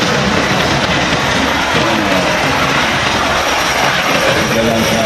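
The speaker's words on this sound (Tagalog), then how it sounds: "Maglaland na helicopter namin." A landing helicopter roars loudly and steadily throughout, a dense, constant engine and rotor wash heard up close with no break.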